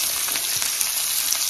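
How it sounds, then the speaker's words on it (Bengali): Greens fry with garlic in a hot wok, a dense, even sizzle with faint stirring scrapes. It runs close and steady through the short stretch. "একটু শাকটা ভাজা ভাজা হোক"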